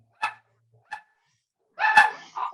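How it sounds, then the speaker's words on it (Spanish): A dog barking nearby, two short sharp barks followed by a louder, longer burst of barking. "Está mi perro acelerado"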